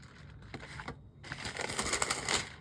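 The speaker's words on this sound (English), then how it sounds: "turning the pages." Papery rustling and crisp flicks come in bursts as Bible pages are turned quickly, close and moderately loud.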